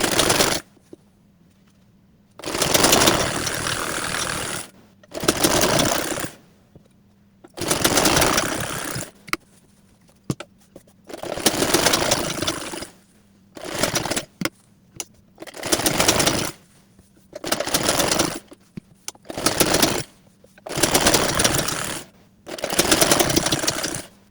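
A sewing machine stitches salwar trousers in loud, rapid bursts separated by short pauses, starting and stopping repeatedly.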